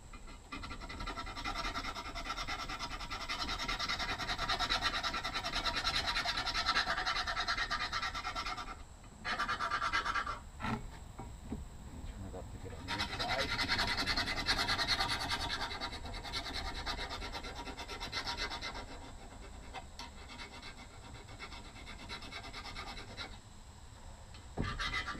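A steel chisel scrapes rust off a cast wood stove door in long, rasping strokes. A few short pauses break up the strokes, and the sound is close but quiet.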